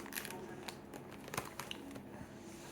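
Pages of a Pokemon card binder holding first-generation Kanto cards being turned, giving soft crinkling plastic-sleeve rustles and a few sharper flips, close and quiet.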